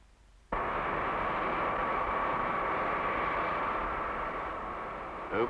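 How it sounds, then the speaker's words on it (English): High-pressure water jets on a framework spraying a car to check water seals for leaks switch on abruptly and keep up a loud, steady hissing spray. "Water seals are checked for leaks by passing under a framework of high-pressure water jets."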